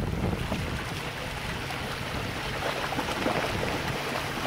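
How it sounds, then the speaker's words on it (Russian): Incoming tide waves washing over the Passage du Gua tidal road in France, a steady broadband roar of surf and water with wind buffeting the microphone, continuous and fairly close throughout. "Волны на нас идут."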